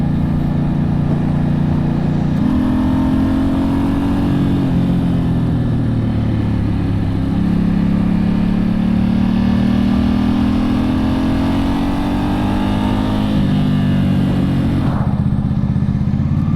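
A 2008 Ducati S2R1000 Monster motorcycle being ridden, its engine droning loudly and continuously, with pitch rising and falling through throttle changes and gear shifts, plus steady wind rush and no talk.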